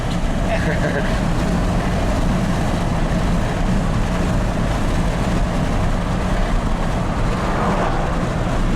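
A 1994 Ford F150 pickup truck with a reported running fault drives along in a steady, loud in-cab engine and road rumble, with someone talking over the drone.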